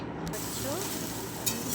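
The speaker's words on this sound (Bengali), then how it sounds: "আলু ভাজা আমি বসিয়ে দিয়েছি" Cut potatoes frying in a pan in a home kitchen, a steady broad sizzle heard close, with a faint clink near the end.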